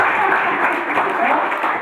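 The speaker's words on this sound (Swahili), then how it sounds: "Pigieni kanisa mlimani makofi." A church congregation claps together in a brief, dense wash of applause that holds steady throughout.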